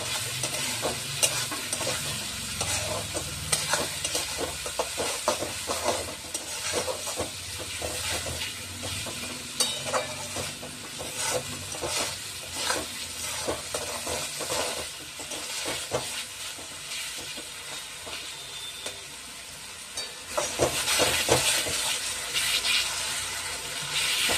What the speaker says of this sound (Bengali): এটাকে একটু কষাতে হবে, এটা থেকে যখন আরো একটু তেলটা বেরোবে